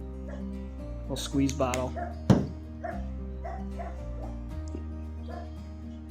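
A dog out in a yard gives a few short barks, yips and whimpers, heard under someone talking nearby, with one sharper bark standing out midway.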